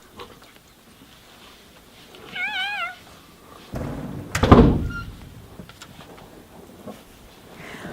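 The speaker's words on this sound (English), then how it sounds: "God shut the door behind them." The door of Noah's ark is shut with a single heavy wooden thunk that booms and rumbles away. A cat's wavering meow is heard just before it, against quiet surroundings.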